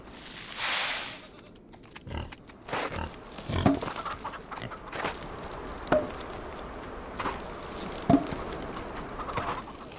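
Pigs on a farm in the video game Farm Together: scattered short grunts and snorts alongside mechanical clicks and ratcheting, with quiet gaps between the sounds.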